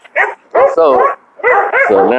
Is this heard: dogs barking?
yes